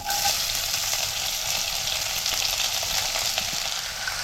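Chopped onion hits hot oil already holding whole spices (star anise, cardamom, cinnamon, black pepper, cloves and bay leaf) and sets up a steady, close, loud sizzle that holds evenly throughout, with no talking.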